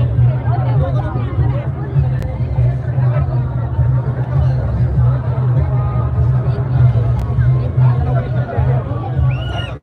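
A crowd of party workers gathered at Yogesh Kadam's political rally in Dapoli fills the air with a steady, loud babble of overlapping voices over a low, constant hum.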